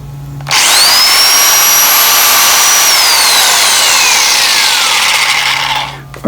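A 9-inch DIABLO carbide-tipped saw blade for thick metal cuts through 3-inch cast iron drain pipe, a loud, steady high-pitched whine with descending pitch as it bites, running continuously for several seconds close up.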